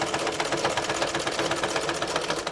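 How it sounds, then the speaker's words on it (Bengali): A sewing machine stitches kameez fabric with a fast, steady, rhythmic whirring that stays close and continuous throughout, with no talking. "এই যে আমি যেভাবে সেলাইটা করছি"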